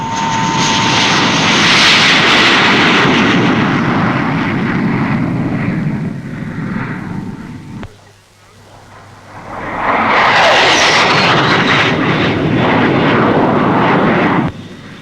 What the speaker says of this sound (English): Now showing its paces is the Supermarine 510.